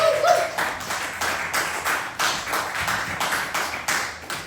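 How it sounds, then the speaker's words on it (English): Audience applause for a comedian taking the stage at an open mic night on Liberty Street, a steady patter of many hands clapping through the whole stretch, moderately loud and close, with no speech over it. "Give a round of applause for him."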